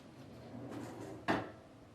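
A heavily loaded drawer in a garage workbench toolbox, one of several sizes, slides shut with a soft rumble and then a single firm thud, close by and with no talk.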